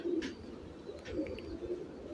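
A pigeon two to three years old coos in a loft, a low soft cooing call repeated a few times close by with no voices over it.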